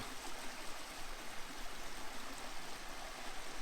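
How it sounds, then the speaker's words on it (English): A small cascade on a forest creek along the Crevice Falls trail pours steadily, a close, continuous broadband rush of falling water with no voices. "just wanted to stop by this little cascade."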